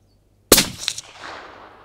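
A single sharp, loud rifle shot fired at a paper target outdoors in Ayrshire, cracking up suddenly from silence, then a brief echo and a reverberant tail fading over the next second.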